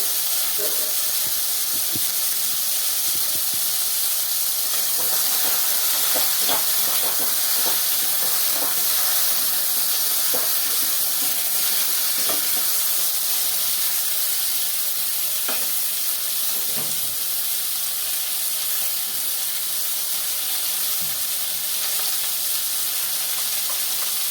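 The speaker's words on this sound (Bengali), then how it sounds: "এই যে আলু পটলটা দিয়ে দিলাম, এটা একটু ভেজে নেবো।" Cubed potato and pointed gourd frying in a pan for a vegetarian dish, a constant loud sizzling hiss with intermittent scraping and stirring clicks, close and unbroken, no talking.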